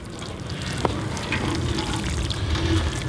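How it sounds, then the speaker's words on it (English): Water pouring from a watering can onto freshly planted Gypsy broccoli in a vegetable garden bed, a steady close splashing and trickling with no voices. "And so I'm just going to take my watering can and water these in here."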